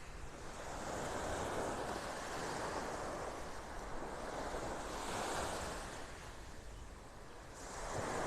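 Surf rolls onto a natural beach at Wiggins in North Naples, Florida, a steady wash of waves swelling and easing under light wind noise, with no voices.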